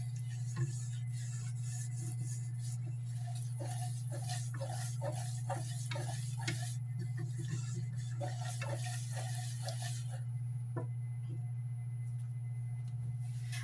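A flour and fat roux cooks in a pan for corned beef gravy, giving a soft, steady sizzle and faint bubbling with scattered light stirring clicks, close and quiet, with a constant low hum underneath.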